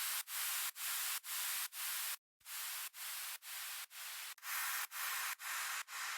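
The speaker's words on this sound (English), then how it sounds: "Now we're gonna add some impacts." Future house drop impact effects come as a loud run of rhythmic, filtered noise bursts that hit evenly, with one short silent break, and no talking.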